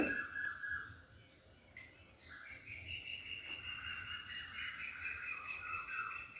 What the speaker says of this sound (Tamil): குருவிங்க வேறு நிறைய கத்திக்கிட்டு இருக்காங்க.